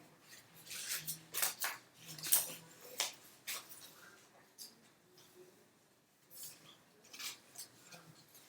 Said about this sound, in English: I'm going to use my scissors again. And I'm going to cut my basket out.